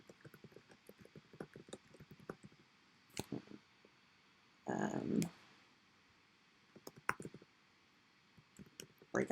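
A computer mouse clicks on screen buttons while creating a Google Classroom assignment, giving a few faint, sharp taps scattered through quiet room tone, with one brief louder rustle in the middle.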